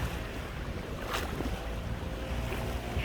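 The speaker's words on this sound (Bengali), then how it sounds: "নদীর যে কুলুকুলু ধ্বনি" A river flows outdoors in natural surroundings with a continuous low rushing murmur, mixed with a breezy wash. The sound is steady throughout and has no distinct events.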